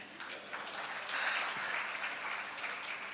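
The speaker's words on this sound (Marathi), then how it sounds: "आता टाळी पाहिजे होती" Applause from a studio audience during a talk show, a steady wash of clapping that holds for a few seconds at moderate distance with no voices over it.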